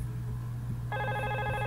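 A simulated VoIP phone ringing in Cisco Packet Tracer, a steady electronic ring tone that starts partway through over a low hum, faint and alone.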